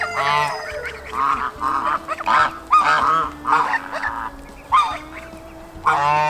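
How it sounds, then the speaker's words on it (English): African geese honk loudly and repeatedly, overlapping nasal calls close by, with brief pauses between bursts. "the two Africans are finally looking like African geese now."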